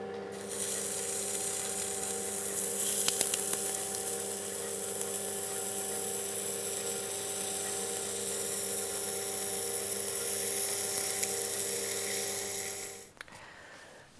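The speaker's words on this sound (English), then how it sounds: "I'm just going to lightly sand it with some wet and dry." A wood lathe spins a turned piece while it is lightly sanded with wet and dry paper, giving a steady motor hum with a faint hissing rasp on top, running evenly until it winds down near the end.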